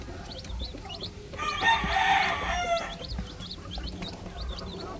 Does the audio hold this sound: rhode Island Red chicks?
yes